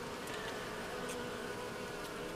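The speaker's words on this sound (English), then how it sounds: "We got a few residual field bees here." A few leftover field bees buzz around the site of a bee cutout at a church, a thin continuous drone with occasional closer passes flaring briefly louder.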